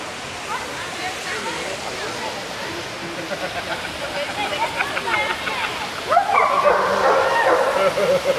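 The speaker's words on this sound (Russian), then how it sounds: "Собака лает как." A dog barks outdoors near a splashing fountain. A few barks rise over the steady rush of water toward the end, with people talking nearby.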